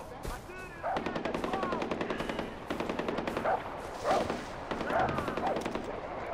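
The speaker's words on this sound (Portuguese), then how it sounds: "E o tiro comendo solto em algum lugar" Sustained bursts of automatic gunfire from the video game Far Cry 4, rattling in rapid volleys with brief pauses, loud and close, mixed with game sound effects.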